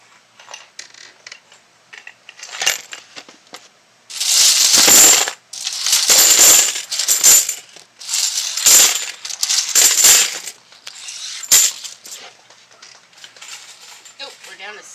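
Handfuls of coins from a coin hunt of halves and a box of coins clatter and jingle loudly in several bursts, with quieter clinks in between and a voice talking at the start.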